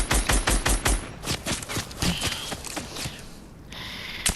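Rapid bursts of Mark 7 assault rifle fire from the video game Fortnite, a fast, steady volley of sharp shots that thins into scattered shots and game effects, loud and continuous.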